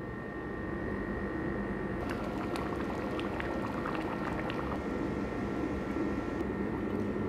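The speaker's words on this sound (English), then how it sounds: "Transferred now and still continue boiling." Beef bourguignon made without red wine bubbles in a pot, a soft, steady simmer with faint popping and hissing throughout, no one talking.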